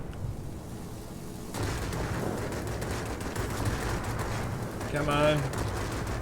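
Yak-9U fighter guns firing in World of Warplanes, a dense continuous rattle of rapid cannon and machine-gun fire running through the clip, with a brief spoken remark near the start.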